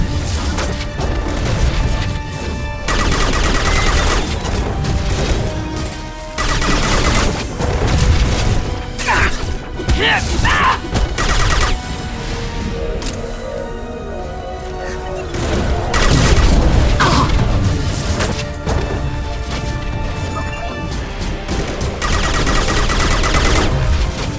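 Mass Effect 2 combat gunfire, rapid bursts of loud shots, heavy booms and crashing impacts in an intense firefight, continuous and dense with brief lulls between volleys.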